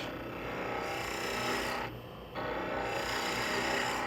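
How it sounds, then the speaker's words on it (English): A spindle detail gouge makes light passes over a wooden blank spinning on a lathe, rounding over the end of a tulip pommel: a steady, close dry scraping hiss that eases briefly midway before resuming. "I'll use the spindle detail gouge"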